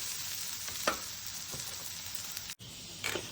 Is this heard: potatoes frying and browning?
yes